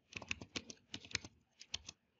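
A password is typed on a computer keyboard in several quick bursts of crisp key clicks, close and fairly quiet, with a short pause between groups and nothing else heard.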